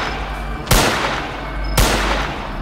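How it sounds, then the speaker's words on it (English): Two loud, sharp gunshots in a Roblox horror game, spaced about a second apart, each a hard burst with a short decay over a low background hum. "I shot him like 4 times"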